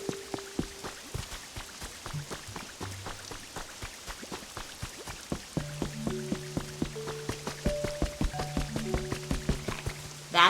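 Rain in the game Pokopia, with many separate drips and light taps on surfaces, sparse at first and growing denser, while soft game chimes and tones play underneath.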